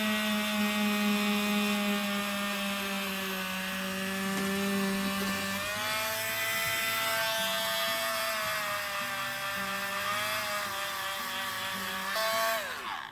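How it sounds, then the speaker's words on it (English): Edges of foam pieces being beveled with a power tool for a foam dragon helm, a steady whirring drone that shifts pitch as the cut goes on, loud and with no talk. "So I'm going to come through and I'm going to bevel these guys' edges."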